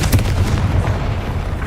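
Confringo fire blast spell cast in Hogwarts Legacy, a loud, booming burst with heavy low-end rumble, dense and continuous like artillery fire, standing alone without voices.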